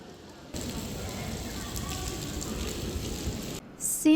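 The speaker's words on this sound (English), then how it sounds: "It was still raining" Steady rain falls across the open courtyard of the Blue Mosque in Istanbul, a dense, even hiss that holds throughout before cutting off near the end, with a brief louder sound at the close.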